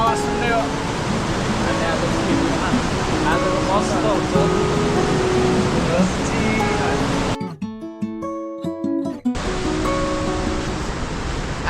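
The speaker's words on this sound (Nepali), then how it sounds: "हामी खोलाको आवाज सुन्दै हो" A river rushes steadily beside the Dupcheshwor Mahadev temple in Nuwakot, Nepal, a loud continuous broadband roar that drops out briefly near the end before resuming, with faint music-like tones mixed in.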